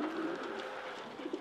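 Red racing pigeons coo softly nearby, low throaty burbling calls repeating over a faint background hush.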